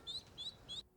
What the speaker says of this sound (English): Let's find these birds. You hear that?